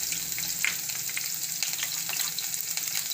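Bay leaf, two chillies and green garlic dropped into hot oil for a Gujarati fenugreek roll curry, a bright continuous sizzle with faint crackles close by, no voices.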